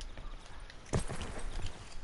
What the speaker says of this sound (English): Three footsteps on wood.